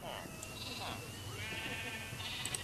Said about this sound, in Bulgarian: Тук са овцете.